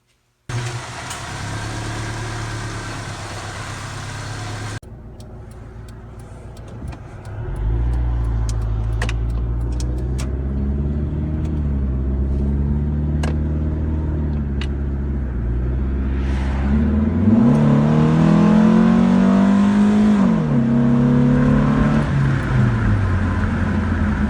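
A 2001 Honda CR-V with newly replaced sway bar bushings drives along, its engine and road noise steady and close, rising in pitch as it accelerates, with a few light knocks early on.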